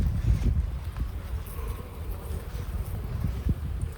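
Honeybees buzzing around an open hive during a colony split into an Anel hive, a steady low droning hum from many bees close by, with some wind rumble and no talking.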